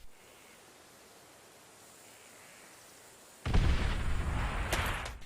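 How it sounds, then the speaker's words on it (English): An explosion goes off in the Call of Duty: World at War Search and Destroy match on the Airfield map, a sudden loud broadband blast that rumbles on after a quiet stretch. "we know for sure that explosion came from near A"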